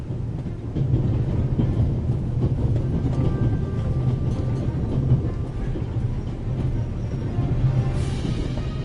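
A steam train from The Raven Remastered video game rolls steadily along, with a continuous low rumble and rattle of the running engine and coal tender and wind-like noise. A brief brighter hiss comes near the end.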